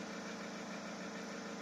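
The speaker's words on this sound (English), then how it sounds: "I'm letting the engine run behind me for a bit." A car engine idles steadily behind the listener, an older car with an alternator and voltage regulator fault, a constant mechanical hum and whir with no change in pitch and no voices.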